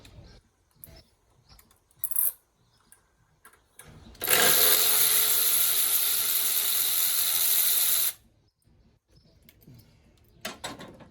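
A ratchet loosens a bolt on the 4.9L engine of a 1990 Ford F150 during a fuel injector install, making a steady fast clicking run of about four seconds, close and clear, between brief handling noises.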